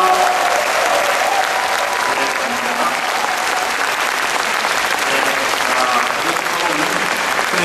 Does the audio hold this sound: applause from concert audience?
yes